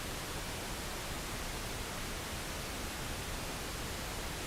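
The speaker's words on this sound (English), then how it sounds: "Yeah, pink noise." Steady broadband pink noise test signal with a 3 dB per octave slope, a constant even hiss across the whole spectrum at a uniform level, heard alone with no talk.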